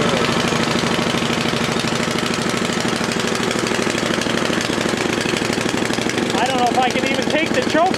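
A snowblower engine running rough after a cold start with the choke just turned off, a steady, loud, uneven chugging throughout, with some talk over it.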